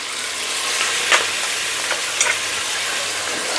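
Mutton fries with coriander powder in a hot pan, a loud, steady, close sizzle with a couple of faint scraping stirs breaking through.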